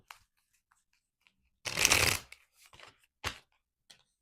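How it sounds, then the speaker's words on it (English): Tarot cards being shuffled by hand, a loud riffling burst followed by a few softer shuffles and a sharp final snap of the deck, close up with no voices. "I already pre-shuffled them, but I'm going to shuffle them 3 times"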